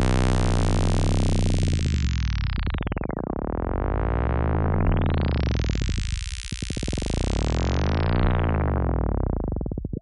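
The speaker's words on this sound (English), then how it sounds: "each of those tape stops is like chopping up the frequency spectrum" Tape stop wub effect in which LFOs drive out-of-sync tape stops, producing loud, dense, distorted swooping sweeps that dive down and spin back up in two big arcs, with no voice.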